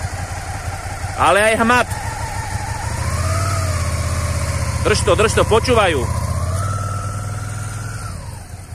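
A motorcycle engine idles steadily through the clip at low volume during a riding lesson where a rider learns to handle and lift the bike, with instructors talking over it in short bursts.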